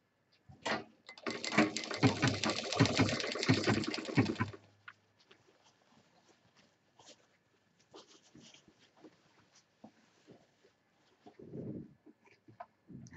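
A sewing machine stitches a belt strap for a homemade office handbag, running as a dense, steady mechanical rattle for about four seconds before stopping. Faint handling clicks and rustles follow in near silence.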